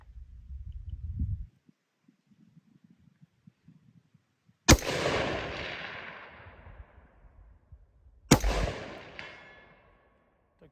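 Two sharp rifle shots fired at a target 200 yards away, spaced about four seconds apart, each a loud crack followed by a long rolling echo, after a quiet start with faint low rumble.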